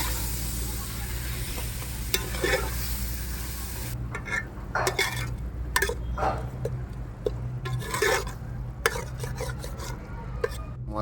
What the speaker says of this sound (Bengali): টমেটো দিয়ে কষা হবে।